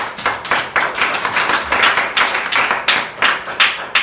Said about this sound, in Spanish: Ese aplauso sea para Jesucristo.